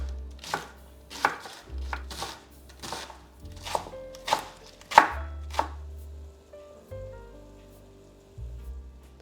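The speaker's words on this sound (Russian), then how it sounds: "Просто порежу ее мелко." A knife finely chopping vegetable tops on a board, a series of about a dozen sharp, distinct cuts in uneven rhythm, close and alone over a faint low hum.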